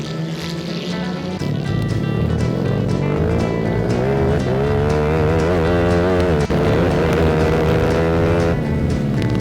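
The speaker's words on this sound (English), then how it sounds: "That is awesome fun. So much skidding." Go-karts racing at Rockingham, with loud, continuous engine drone whose pitch rises and falls as the karts accelerate, brake and spin, and possible tyre skidding mixed in.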